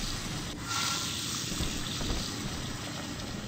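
Sink tap in the video game BioShock 2 running steadily, a close, constant gushing splash of water lasting the full few seconds.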